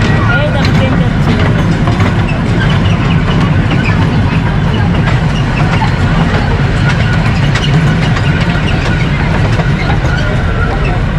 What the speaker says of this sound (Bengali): এই দেখো ট্রেন যাচ্ছে